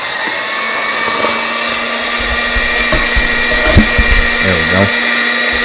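Electric mixer whirring steadily through sweet potato pie ingredients, a loud constant motor drone with brief knocks, while a person speaks a few words over it.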